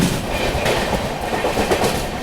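Bhubaneswar Duronto Express rolling steadily along the rails while overtaking a halted train, a continuous loud rumble with rhythmic clickety-clack of wheels over rail joints, close and unbroken.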